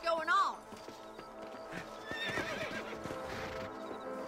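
A horse in the video game Red Dead Redemption gives a clear whinny at the start, followed by soft clip-clop hoofbeats and other faint game sounds, with a person talking quietly underneath.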